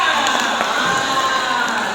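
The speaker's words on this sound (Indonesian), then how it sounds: "Ayo tepuk tangan dulu untuk temannya." Children at a church Sunday school service clap together for a classmate, a dense, steady wash of hand claps mixed with crowd noise and excited young voices throughout.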